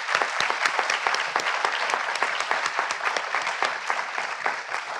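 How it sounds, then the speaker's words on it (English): Audience applause for panelists at the close of a marine genetic resources panel, steady close clapping with crisp individual claps throughout. "let me get a round of applause for our panelists"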